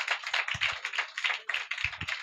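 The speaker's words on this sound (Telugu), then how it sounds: "చప్పట్లు ఒకసారి కొట్టండి." Rhythmic group hand clapping from a church congregation during a Telugu sermon, repeated bursts of claps in a steady beat with a few low thuds underneath, moderately distant.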